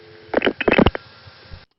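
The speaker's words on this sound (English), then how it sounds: "you can hear that on-hook signal being sent forward." Telephone on-hook signal passed forward through stacked trunk links between 1978 local offices in the Elizabeth City, North Carolina area, a short cluster of clipped tones over a narrow phone line before it cuts off.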